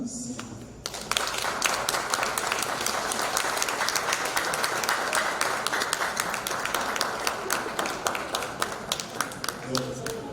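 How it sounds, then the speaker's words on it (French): The audience at the closing ceremony of the PASSEREL project breaks into sustained applause after a short moment of quiet, a dense, crisp wash of many clapping hands that stays loud and even for around nine seconds. "Applaudissez"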